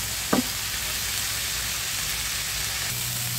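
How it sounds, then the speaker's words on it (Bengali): Boiled flat beans dry and fry on a stove, giving an even, continuous hissing sizzle after a short clank of a utensil at the start. "সেই জলটা বন্ধুরা এভাবে চুলার উপর দিয়ে শুকিয়ে নিতে হয়"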